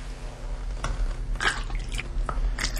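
Water poured by hand into a fuel-making box on a motorcycle, heard as a few close, wet splashes and drips spaced irregularly over a low steady hum.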